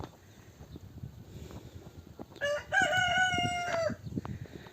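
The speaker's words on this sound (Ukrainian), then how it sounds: "Півень зве, каже, йдіть вже додому, хватить цих огірків." A rooster crows once in a vegetable garden with dill, lucerne and cucumbers, a single clear cock-a-doodle-doo in the middle of quiet rustling and faint background noise.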